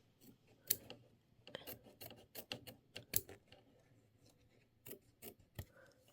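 Scissors trimming quilt fabric for a quilt block, a series of crisp snipping cuts in irregular bursts, close and fairly quiet with short pauses between them.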